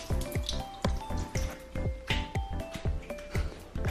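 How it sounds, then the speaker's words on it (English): Water sprinkled onto a mirror gives a quick series of close, distinct drips and plinks in an uneven rhythm, each with a short ringing tone. "you're gonna need to sprinkle some water in the mirror"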